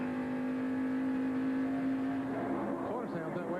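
A NASCAR race car engine at about 8,000 RPM holds a steady high whine, then shifts and warbles as the pitch changes near the end, heard from a distance with no talk over it.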